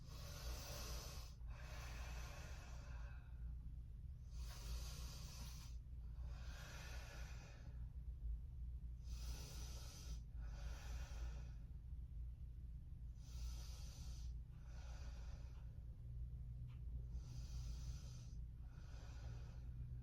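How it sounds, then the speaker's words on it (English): Slow, deep breaths drawn in and out through the nose during a held squatting forward-fold yoga pose, about ten close, airy breath sounds in steady rhythm over a low background hum, with no talking. "Take 5 breaths here."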